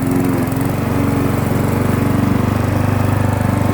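A Briggs & Stratton lawn mower engine runs loud and close with a continuous rapid chugging drone, steady throughout with no voices.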